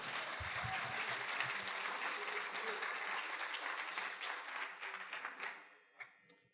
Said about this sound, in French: Et on peut les applaudir, c'est PSA Peugeot Citroën.